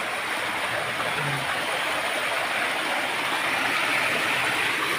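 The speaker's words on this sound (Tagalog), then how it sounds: "Ito yung falls." Waterfall at Antipolo, Rizal, a loud, constant roaring rush of water that fills the scene without pause, heard up close with no voices over it.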